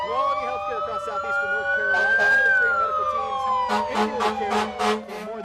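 An ambulance siren wails, sweeping up and down, then switches to a rapid yelping pattern, loud and close, at a holiday parade in downtown Wilmington, North Carolina, with some voices faintly underneath.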